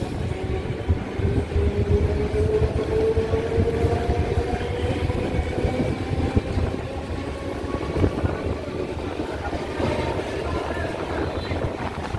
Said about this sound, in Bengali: একদম নির্ধারিত সময় আমাদের ট্রেন দক্ষিণেশ্বর থেকে ছেড়ে দিয়েছে